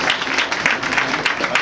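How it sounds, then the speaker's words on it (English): A crowd applauding at a school anniversary celebration in Keta, Ghana, a dense, even patter of many hands clapping at once, fairly loud and close, with no pauses. "Clap for us, clap for us."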